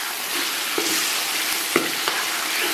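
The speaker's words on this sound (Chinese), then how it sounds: "然后来点黄豆酱，再给它简单煸炒一下。" Beef stir-fried with soybean paste in a wok gives a steady, dense sizzle with a few soft scraping stirs of the spatula breaking through, close and continuous throughout.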